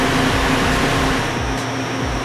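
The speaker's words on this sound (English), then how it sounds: "the blowers are certainly running at their maximum effort" Mobile HEPA air filtration unit with blowers at full speed moving about 18,000 CFM, a loud, steady broadband whoosh with a persistent motor hum, close and continuous, no speech.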